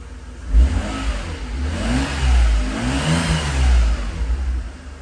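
A rare classic Mercedes engine, bought at auction for $425, runs with a deep, rumbling idle and swells through several revs, loud and close with no voices.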